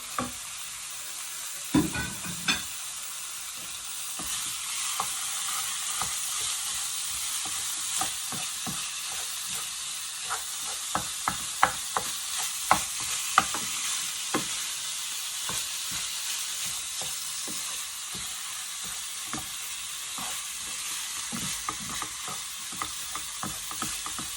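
Minced beef frying with onions in a pan, a steady close sizzle heard alone with frequent scraping and clicking of a utensil stirring the meat throughout.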